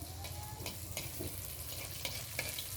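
Steady crackling sizzle of Thai-Khmer lotus-leaf dough snacks frying in hot oil in a pan, with faint clinks and stirring noises over a continuous bubbling hiss.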